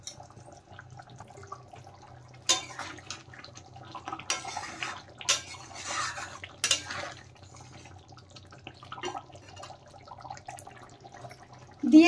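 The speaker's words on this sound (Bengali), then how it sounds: "এখন ভালোভাবে নেড়ে চেড়ে পনির ফুটিয়ে নেব আমি।" Paneer masala stirred and simmering in a pan, with a faint low bubbling bed under intermittent scraping and clinking of a spoon against the pan, close and quiet, no talking.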